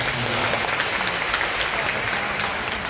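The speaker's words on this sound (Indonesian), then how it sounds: "Tepuk tangan dong untuk kakak." Applause fills a parish seminar hall as the audience claps together, dense and continuous, with faint voices murmuring underneath.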